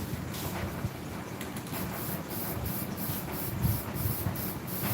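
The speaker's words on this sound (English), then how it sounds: "take this can of spray" An aerosol spray paint can sprays paint onto sanded non-skid in short, repeated hissing bursts, close up, with faint rattling between the sprays.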